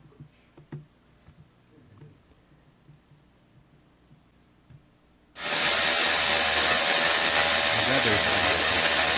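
A drill bores into a post-tension duct on a bridge, starting abruptly after a few seconds of faint background clatter and then running as a loud, steady, harsh whine that stays close and continuous.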